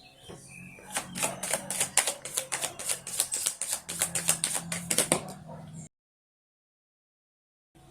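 A deck of tarot cards is shuffled, giving a rapid run of crisp slaps and clicks for several seconds, close and fairly quiet, then it stops abruptly into silence.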